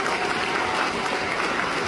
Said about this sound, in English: So let's give another round of applause for all of tonight's awardees.